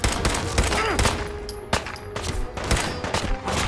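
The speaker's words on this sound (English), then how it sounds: "we're getting shot at from every direction possible" Dense gunfire in the video game Fallout 4, rapid overlapping shots and bursts cracking from all around, loud and sustained with a few sharper impacts, with a faint voice in the mix.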